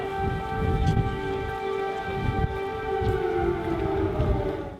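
Air raid sirens wail over Kyiv, long sustained tones rising and falling in pitch, heard at a distance with a steady low rumble beneath and no speech.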